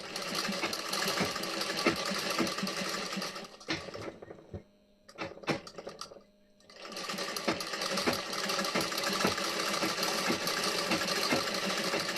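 A sewing machine stitches a blouse back neckline design in fast rapid-fire bursts, pausing briefly mid-way with a few isolated clicks before resuming a steady loud run; no voices.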